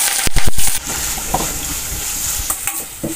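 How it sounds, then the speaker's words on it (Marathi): Finely chopped onion hits hot oil in a kadhai. A few loud scraping stirs open the sound, then a steady crackling sizzle carries on close by, broken by occasional spoon knocks. "तेल आपलं गरम झालंय, त्यामध्ये आपण घालणार बारीक चिरलेला कांदा"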